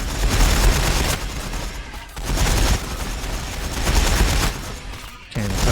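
Sustained gunfire and explosions from a Warhammer 40,000: Battlesector battle, with dense overlapping volleys and heavy booms filling the scene, briefly dipping before resuming loudly.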